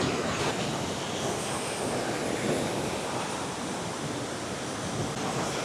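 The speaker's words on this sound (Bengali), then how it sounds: "দেখুন তলা দিয়ে জল কী হারে যাচ্ছে" River water rushing beneath a swaying living root bridge in Meghalaya, a steady loud broadband roar of flowing water with wind mixed in, continuous and unbroken.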